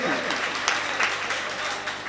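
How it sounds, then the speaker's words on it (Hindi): An audience claps at a live Hindi poetry and comedy show, a dense, steady wash of applause with voices mixed in throughout the short stretch. "एक बार तालियां हो जाइए आनंद की।"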